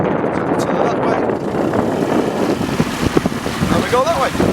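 A tiller-steered outboard engine drives a small boat across open water, a steady buzzing drone mixed with heavy wind rumble and splashing, close and continuous.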